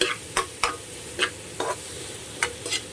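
Onions being stirred in a hot pan, a soft steady sizzle broken by about seven sharp scraping strokes of a utensil against the pan, close and fairly quiet with no talking.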